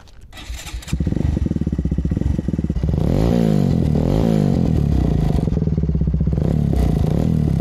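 A cold moped engine is kicked over with clattering tries, then catches about a second in and settles into a loud, close two-stroke buzz that rises and revs in waves, with no talk.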